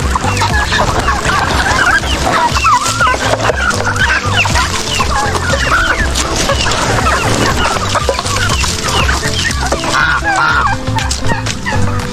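A crowded flock of chickens, turkeys and ducks clucks and gobbles nonstop, close by and loud, with overlapping calls and no talking.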